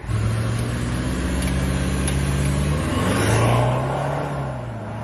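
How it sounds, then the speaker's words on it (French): An Audi A8 4.2 V8 accelerating hard, its engine note rising in pitch and swelling louder as the car pulls away, with a strong rushing intake sound and no talking. "Il lui manque un peu de bruit à la bagnole, c'est vrai. Mais le son du souffle est incroyable."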